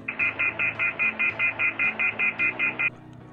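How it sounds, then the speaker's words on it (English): A phone emits twelve evenly spaced electronic beeps, a steady bright tone pulsing rapidly and loudly before stopping abruptly, with low background hum beneath. "the video cuts to a phone making that beeping noise"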